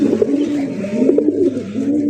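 Indian red Bombai pigeons cooing close by, a run of soft, throaty, rolling coos repeating in quick succession and filling the whole moment on their own.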